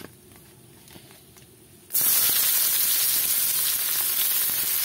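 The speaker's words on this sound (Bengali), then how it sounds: "পেঁয়াজটাকে একটু ভাজা ভাজা করে নেব" Onions hitting hot oil in a pan with bay leaves, cumin and chilli for egg biryani, a sudden loud sizzle bursting in partway through and continuing as a steady, close hiss after quieter kitchen sounds.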